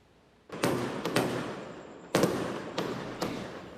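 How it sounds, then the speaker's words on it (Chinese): Fireworks go off at midnight in Tainan, Taiwan, near homes, in a series of about six sharp booms, some in quick pairs, each echoing and fading, with no talking. "因为烟火声毋但甲附近居民吵精神"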